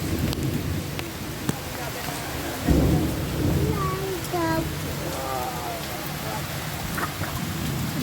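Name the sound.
heavy rain with thunder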